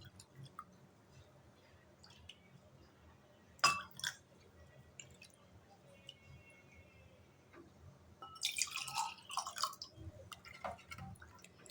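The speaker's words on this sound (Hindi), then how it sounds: "ये देखिए इस तरह से आपने डाल लेना है ग्लास के अंदर।" A sattu drink is poured into a glass: quiet drips and small liquid sounds at first, then a louder splashy pour near the end, with no talking.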